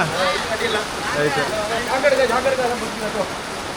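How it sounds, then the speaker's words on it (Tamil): Heavy rain pours steadily during a storm, a dense continuous hiss of falling water with voices speaking over it throughout. "மழை கடுமையாக பெஞ்சிக்கிட்டு இருக்குல்ல"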